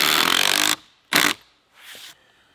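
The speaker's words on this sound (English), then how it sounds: "Come on down here with that drill." A power drill on a deck job whirs in three short bursts: a long run, a quick blip, then a softer final spin, with silence between them.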